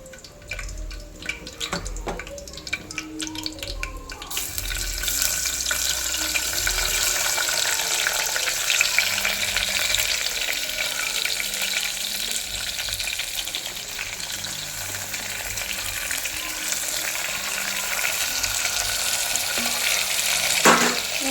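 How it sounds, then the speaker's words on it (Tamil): Green chillies, sliced onions and tomatoes fry in a pan for mutton biryani. A loud, close, continuous sizzle swells after a few seconds of stirring clatter and holds steady to the end. "நல்லா ஃப்ரை பண்ணணும்."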